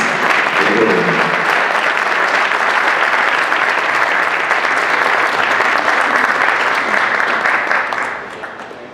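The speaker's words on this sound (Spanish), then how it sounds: "Muchas gracias, los aplausos de todas y todos ustedes por estas firmas." Loud, dense applause from a large audience at a Mexican summit on historic city centres after an agreement signing, sustained and even for several seconds before tapering off at the end.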